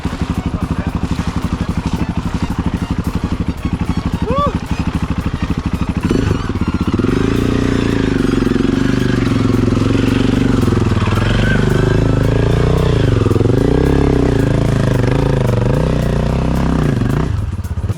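Adventure motorcycles, including a light Chinese Tenere-style bike, run close by with a rough clattering idle, then a steady loud engine drone with rising and falling revs as a rider pulls away; a voice is briefly heard.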